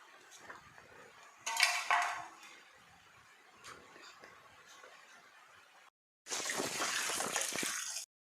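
Cut pumpkin pieces being washed in water for a roti chutney, with dish and utensil clatter, a louder splashing burst near the start, and a steady running-water rush near the end after a brief silence.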